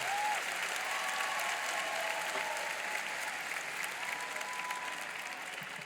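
Church congregation applauding together, a steady, dense wash of clapping that holds at even strength throughout with faint voices mixed in.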